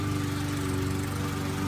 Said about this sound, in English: old man Johnny is out there mowing his lawn right now